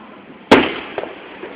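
A single firework bursts with one sharp, loud bang followed by a fading rumble. A fainter pop follows about half a second later, and there is no talking.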